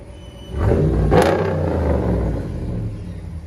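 A 2016 RAM 1500 pickup with a 5.7L HEMI and dual exhaust through a Flowmaster Outlaw muffler gives one sharp rev, a deep loud rumble that rises, peaks briefly and settles back to idle.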